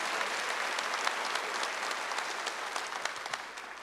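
A congregation at a Wednesday church service applauds together, a sustained, fairly distant and even patter of many hands clapping with no speech over it.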